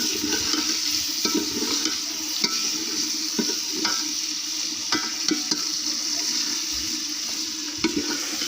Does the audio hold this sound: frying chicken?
yes